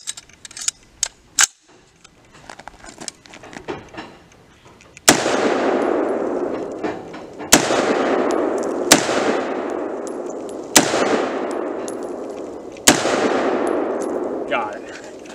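An AR-15 in 5.56 fires about five loud, sharp shots spaced a couple of seconds apart into a small epoxy cutting board outdoors, each crack followed by a long ringing decay, after softer clicks and handling noises.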